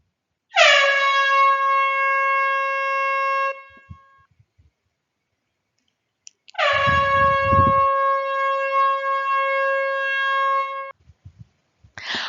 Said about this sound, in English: the sound of the horn is telling us that it is time for our review